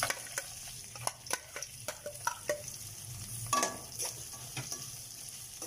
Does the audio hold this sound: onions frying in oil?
yes